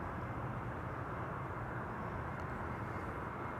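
Airliner departing Amsterdam Schiphol Airport, a steady broadband jet roar held at constant level throughout, moderately distant with no voices over it.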